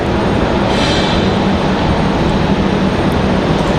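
A CRJ regional jet taxiing in to the gate at Raleigh-Durham International Airport, a loud, steady engine roar with broadband rumble that holds constant throughout without any voices.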